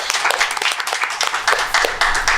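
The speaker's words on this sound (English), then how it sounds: "Give yourselves a round of applause for being here." A studio audience at a talk show gives a round of applause: loud, dense, continuous clapping for a couple of seconds, close to the microphone, with no speech over it.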